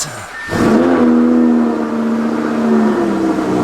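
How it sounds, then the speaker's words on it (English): An Audi R8 V10 Plus with a new exhaust cold-starts, cranking and firing up with a sudden roar, then settles into a loud, steady idle with a deep exhaust rumble close by. "I think it's time for the first cold start with the new exhaust."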